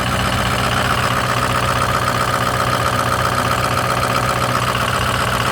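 A 2005 Ford F250 4x4 Powerstroke diesel, deleted, with ARP head studs and a new turbo and injectors, idles steadily with a dense, even rumble. It sits close and loud, with no talking over it.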